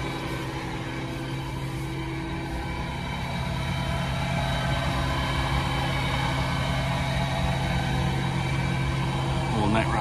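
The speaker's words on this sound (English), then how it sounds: "This is the new Fendt 728. It's quite a big tractor." A large Fendt 728 tractor idles nearby at a grassland silage harvest, a steady low rumble with constant droning tones throughout, while someone speaks over the engine.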